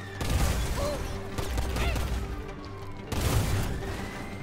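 Gunfire in the video game Grand Theft Auto V, repeated muffled shots and booms in quick irregular bursts, dense and continuous, with a voice shouting over the action.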